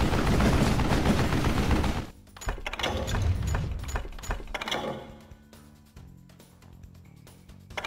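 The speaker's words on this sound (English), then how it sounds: "Right about then, I was attacked by some asshole on a Gatling gun." A Gatling gun fires on a train in the Call of Juarez: Gunslinger video game, starting as a dense, loud stream of rapid shots that thins into scattered bursts and sharp cracks over rumbling action.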